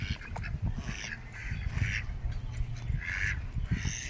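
Ducks near a pond quack repeatedly in short nasal bursts, several calls overlapping at close range over a low background rumble.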